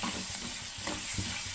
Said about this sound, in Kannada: ಇದನ್ನು ಚೆನ್ನಾಗಿ ಬ್ರೌನ್ ಕಲರ್ ಬರೋವರೆಗೂ ಹುರ್ಕೊಳ್ಳೋಣ.